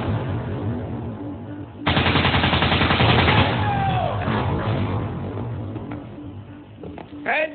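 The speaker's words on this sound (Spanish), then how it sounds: "Rodeado, en medio del intercambio de disparos, cayó Pinina" Rapid bursts of submachine gun fire in an exchange of shots crackle continuously, loud and dense, fading somewhat before a final short burst.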